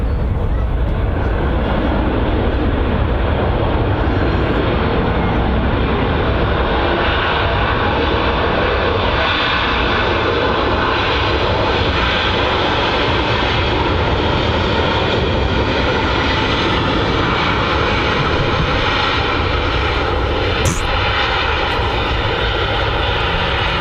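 Airliners using thrust reversers on landing at Manchester Airport give a loud, sustained broadband roar that fills the whole clip, with a steady rumbling jet noise and no break.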